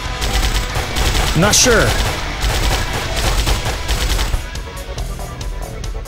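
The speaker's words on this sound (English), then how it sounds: "I'm just gonna frickin' shoot it, a lot." Rapid video-game gunfire pours into a boss in Intrusion 2, a dense run of shots that holds loud through the clip while a man mutters briefly over it.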